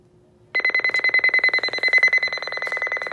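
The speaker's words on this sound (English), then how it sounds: "And now the clock alarm" A broken alarm clock starts ringing abruptly after a quiet moment, a loud, steady electronic beeping in rapid pulses that continues without pause.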